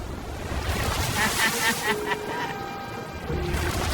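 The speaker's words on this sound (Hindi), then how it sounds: "ओके, ये आई बड़ी लहर।" A big ocean wave rolls in off the coast of a Mexican island, a steady broad roar of surf and water that stays loud throughout, mixed with wind buffeting the microphone.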